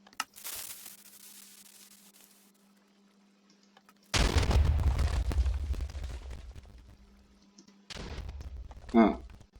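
Blasts from a TNT cannon in a Minecraft-style game: a sudden heavy booming explosion with a rumbling tail, followed by another loud burst and crackle, separated by quieter stretches of game noise.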